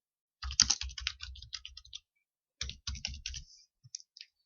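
Typing on a computer keyboard into a Windows 10 search box: two quick bursts of close, crisp key clicks separated by a short pause, ending with a few isolated taps.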